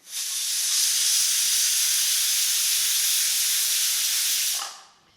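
Pressure cooker venting on the stove while fenugreek rice cooks: one long, loud, steady steam whistle holding for about four and a half seconds before it cuts off, close and with no voices.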